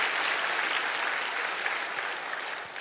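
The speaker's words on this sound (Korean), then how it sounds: "박수 치고 싶어요" Steady applause from an audience at a rally, a dense, even wash of clapping held at moderate level throughout, with no voices standing out.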